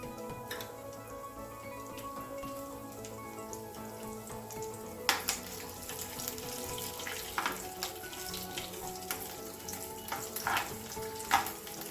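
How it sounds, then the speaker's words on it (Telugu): Mustard seeds, cumin and garlic fry in hot oil with a continuous sizzle and spattering pops, joined by intermittent sharp clinks and scrapes of a spoon in the pan. "వెల్లుల్లిపాయలు కాస్త ఫ్రై అయిన తర్వాత ఎండుమిరగాయలు కూడా వేద్దాం."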